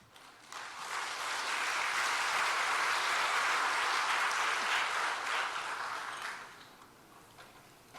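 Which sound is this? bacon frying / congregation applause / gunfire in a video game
congregation applause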